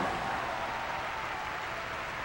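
Crowd applause and cheering in the PlayStation 2 game Mad Maestro, a dense, continuous wash of clapping that stays fairly even and fades slightly over a couple of seconds.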